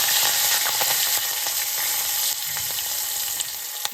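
Loud, steady sizzling and crackling of curry leaves and chilies dropped into hot oil, continuous for the whole stretch with no talking.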